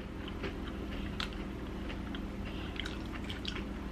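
Close, crisp crunching of fried sweet potato tempura from Jaws Tteokbokki being bitten and chewed, quiet irregular crackles over a steady low background hum.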